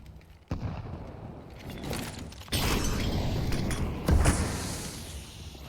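Grenade blasts and gunfire in a Counter-Strike match at a professional esports league game: sharp bangs at the start and middle, then a dense, loud wash of explosion noise and chatter to the end.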